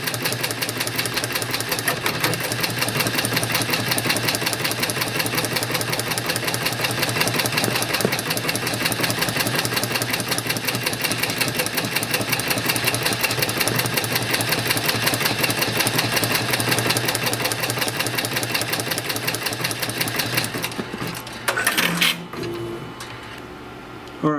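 Avance Stitch Era embroidery machine stitching a one-color design, a steady loud mechanical whirring and rapid needle chatter running continuously for about twenty seconds before stopping with a few clunks.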